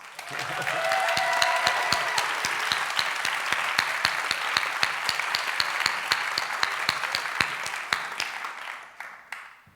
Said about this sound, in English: Everybody show your hands and we'll give a round of applause.